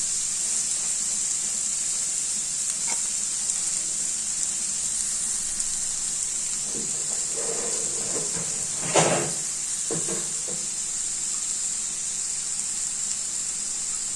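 Chopped onions frying in butter in a pan: a steady, even sizzling hiss runs throughout, with a brief clatter of the pan or utensil midway, and no talking.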